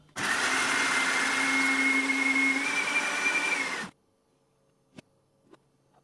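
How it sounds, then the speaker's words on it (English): A blender loaded with alcohol, ecstasy and cocaine whirs loudly and steadily for about four seconds, then cuts off, leaving near silence with a couple of faint clicks. "Put them in a blender, zip them all together."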